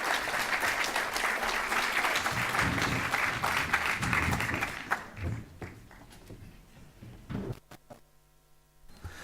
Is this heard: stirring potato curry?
no